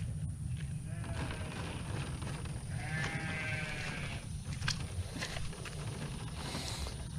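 Sheep bleat at a farm feeding spot as feed goes out for worming, several wavering calls mid-range over a steady low rumble and background chatter.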